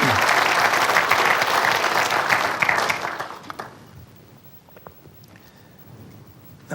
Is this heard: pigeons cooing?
no